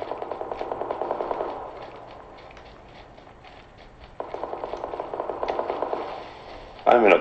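Rapid automatic gunfire in a PUBG match sounds in two sustained, evenly spaced bursts, loud and close, followed by a sharper shot near the end, with players talking over it.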